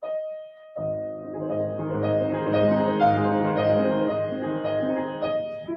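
Piano plays sweeping, rippling arpeggios from Chopin's Opus 25, No. 1 across a wide range, with pedal-sustained notes blending into a full, resonant wash after a short opening tone.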